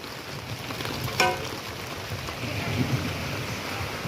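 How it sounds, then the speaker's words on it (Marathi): Heavy rain pours down in a dense, steady hiss, with a sharp crack near the start and no voices. "कसा पाऊस येतोय आवाज"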